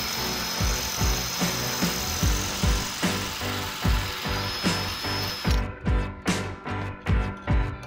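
A power drill whirs continuously, then gives way to a series of short bursts and thumps as it bites in, loud and close, no talking.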